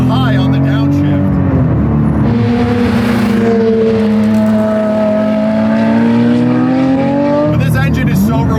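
A Porsche 997 GT3 RS with its 3.8-litre Mezger flat-six revs hard, the engine note climbing and holding in a loud, sustained wail, then dropping and rising again near the end; a voice talks over parts of it.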